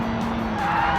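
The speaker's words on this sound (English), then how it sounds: "All this thing does is scream out of the tires." A car's tires squeal in BeamNG.drive, a continuous loud screech over steady engine drone, sustained with a rising tonal whine near the end.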